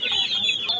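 Farm chickens at a bird market in Khulna, Bangladesh, giving a brief, close cluck or squawk, one short burst of hen calls.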